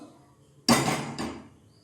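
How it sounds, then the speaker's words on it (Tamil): A cooking pot is set down on a stove burner before making carrot rice, giving one sharp metallic clank followed by a brief softer knock, close and alone. "ஸ்டவ் ஆன் பண்ணி பாத்திரம் வச்சுக்கலாம்"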